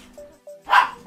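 A few dogs bark in a short, loud burst after two faint yips, close by and with no talking.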